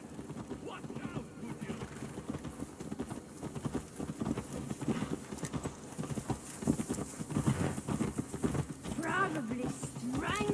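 Steady clip-clop of horse hooves in Assassin's Creed Valhalla under a busy mix of voices and background noise, rhythm continuing throughout at moderate level.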